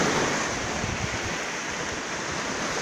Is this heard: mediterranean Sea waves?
yes